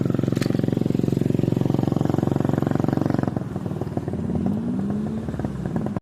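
A motorcycle engine idles loud and close with a rapid steady firing rhythm, left running with the stand down, then the tone drops and loosens into a rougher, uneven putter for the last few seconds.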